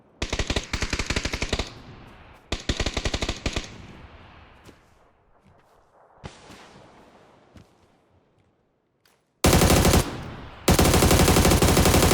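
Automatic gunfire in the battle game PUBG: two loud rapid bursts, a fainter burst after a pause, then two long sustained volleys close up at the end, with decaying echoes between.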